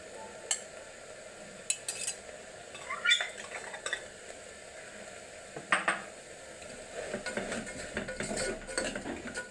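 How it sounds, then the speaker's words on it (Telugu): Grated jaggery is stirred into cooked lentils in a pan, with a spoon scraping and clinking against the metal in irregular strokes over a soft sizzle. "ఈ రెండింటిని బాగా కలుపుకుని పాకం వచ్చి ఉండయ్యే వరకు ఉడికించుకోవాలి"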